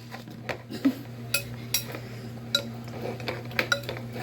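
A spoon stirs a melon drink mixed with milk, giving light, irregular clinks and taps against the glass or container, close and fairly quiet, with soft stirring sounds between the hits.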